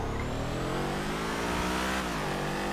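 A new car's engine revving and accelerating on a slippery driveway, a loud steady drone with the pitch swelling and falling, no talk over it.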